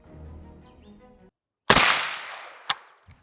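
A single sharp AK-47 rifle gunshot cracks at close range and rings out briefly, followed by a smaller second report, after a low indistinct murmur at the start.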